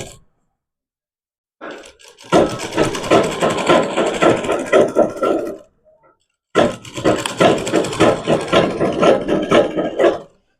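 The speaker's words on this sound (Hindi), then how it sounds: "देखो बे इस तरीके से मैं एक बार एक सिलाई लगा के दिखा दूं आपसे" Sewing machine stitching the hem of a farshi salwar in two loud, close bursts of fast rhythmic clatter separated by a short silence.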